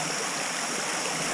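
River water rushes steadily as a truck fords the river. The flow is a constant, close hiss with no distinct engine sound standing out, and no one speaks.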